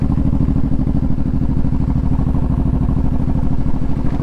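A Honda VTX1800 motorcycle being ridden sends out a loud, close, steady rumbling engine pulse with a fast, even beat throughout, with no talking.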